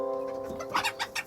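A hen's clucking as a story sound effect, several short close bursts rising toward the end over a steady tonal background bed.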